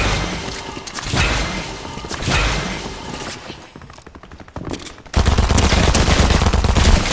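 Gunfire in Fortnite comes in rapid bursts and scattered shots, with thuds mixed in and a heavier, denser stretch of firing near the end.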